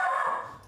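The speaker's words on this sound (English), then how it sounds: "Sorry, that's my dog." A pet dog named Mia gives a single short, faint bark or yip indoors, heard alone and fading quickly.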